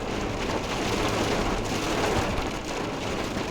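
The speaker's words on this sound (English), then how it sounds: "was surprised by a pretty heavy thunderstorm" A heavy thunderstorm with rain on a mountain pass road toward Austria: dense, steady downpour drumming continuously at close range, with a low rumbling undertone and no voices.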